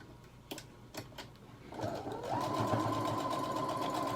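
A sewing machine stitches overlapped fabric ends of a hair scrunchie: a few soft clicks, then a steady, close mechanical whirring that continues to the end.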